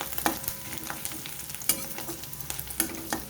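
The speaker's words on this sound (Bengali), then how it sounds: "আদাটাও আমি একটু ভেজে নেব।" Grated ginger frying in a pan as ghugni is made is heard as a quiet sizzle, broken by several sharp clinks and scrapes from stirring. No one speaks.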